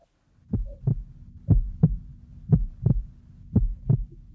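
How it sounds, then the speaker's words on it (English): Heartbeat sound effect in a lub-dub pattern, four clear double thumps at a steady pace of about one per second, close and low over a faint hum, with no talking. "I hear heartbeat."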